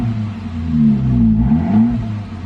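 Saab 9-5 wagon with a straight-piped exhaust, its engine revving in a low, loud rumbling drone that rises and falls twice, close by with no talk.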